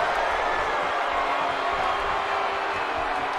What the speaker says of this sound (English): firing up this capacity crowd